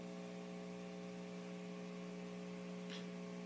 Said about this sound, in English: I will turn the attenuation off so you can hear the amount of hum in the amp.